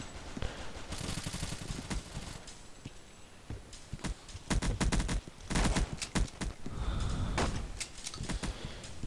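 Rapid bursts of submachine gun fire in the stickman shooter game Boring Man, loud clustered volleys starting and stopping irregularly, with sharp individual shots between them and no speech.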